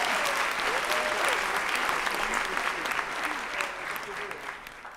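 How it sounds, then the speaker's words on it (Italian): Studio audience applause during an Italian podcast recording, a full burst of many hands clapping that starts strong and gradually thins and fades out toward the end, with faint voices and laughter underneath. "Applauso."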